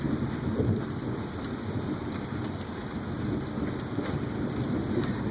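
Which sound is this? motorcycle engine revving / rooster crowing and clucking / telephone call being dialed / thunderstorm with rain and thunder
thunderstorm with rain and thunder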